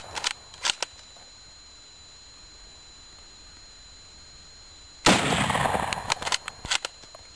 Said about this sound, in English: Here is a comparison of the firing speed.